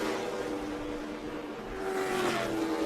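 NASCAR Camping World Truck Series race trucks running on track, a continuous roaring engine drone with a shifting pitch as trucks pass, heard at a moderate distance with no talk.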